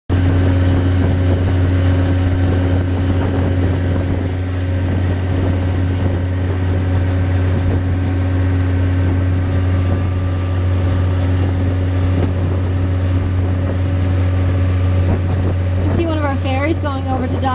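A ferry's engine drones as the boat heads in to dock at a ferry terminal, a steady deep hum with loud wind noise throughout, and a few brief chirps near the end.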